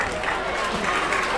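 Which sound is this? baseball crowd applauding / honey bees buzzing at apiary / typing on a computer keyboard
baseball crowd applauding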